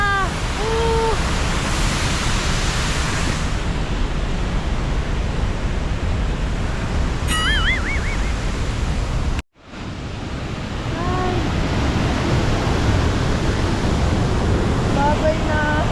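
Tangadan Falls in La Union pours in a steady, loud broadband roar close by, cut by a brief dropout partway through, with occasional voices faintly over the rushing water.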